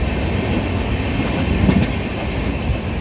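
Moving train heard from inside a carriage, a continuous low rumble with faint rhythmic rattling of the coach, steady and fairly loud throughout, no voices.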